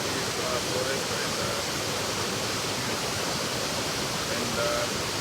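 Waterfall on a forest river in Eldama Ravine, Baringo County, a loud, steady roar of rushing water, close and unbroken.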